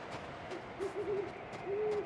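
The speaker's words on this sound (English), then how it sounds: "Owls" An owl in a video game gives soft, low hoots, several short calls and one longer drawn-out note, fairly faint against a quiet background.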